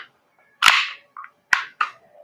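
An Action Army AAP-01 airsoft gas blowback pistol fires on full auto, giving four sharp, snappy pops up close in two uneven pairs, with short quiet gaps between them.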